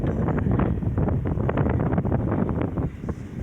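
Strong wind buffets the microphone on a beach at low tide, a loud, continuous low rumble with gusty flutter throughout and no voices.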